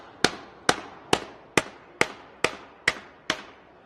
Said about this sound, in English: I'm going to concentrate all the hammer blows just on the edge here.